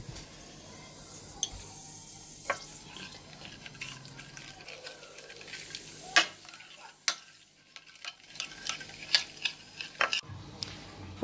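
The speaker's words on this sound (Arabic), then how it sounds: "وغادي نضيفو شويه ديال الابزار ونخلطوا الصلصة مزيان" Spices being stirred into a sauce for a Moroccan vegetable salad, with irregular scraping and clinking of a utensil against a bowl, soft wet mixing between the knocks, and a quieter pause before brisker stirring resumes.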